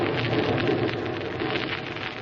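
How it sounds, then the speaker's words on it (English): Steady heavy rain drums on a roof in an old-time radio drama, a dense continuous hiss with no voices, constant and fairly loud throughout. "Listen to that rain on the roof."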